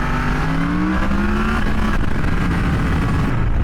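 A Yamaha MT-10 motorcycle is ridden on the road, its engine a steady, loud drone with slowly rising tone under constant wind rush, with no talking.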